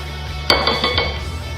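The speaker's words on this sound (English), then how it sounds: "We're just going to give it a little stir." A utensil stirs flour, baking powder and salt together in a bowl for tres leches cake, making a few sharp clinks against the bowl, close and fairly loud, over a low steady hum.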